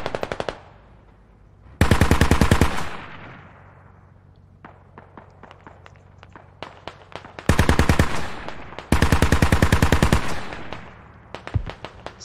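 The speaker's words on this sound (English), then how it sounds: "All kinds of nades are going off. All kinds of stuff going off. This BRDM is firing in that position as well" Heavy automatic fire from a BRDM armored vehicle and exploding grenades in the video game Squad, with loud bursts of rapid shots separated by quieter stretches of scattered single shots and thumps.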